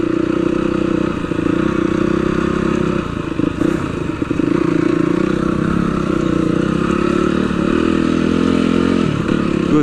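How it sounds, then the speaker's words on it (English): A Yamaha TTR 250 dirt bike ridden off-road at Kahuku, Hawaii, its engine droning loud and steady for the whole stretch, with rough clattering and scraping from the terrain and brief revving surges. "Matt's riding the 250, the TTR 250."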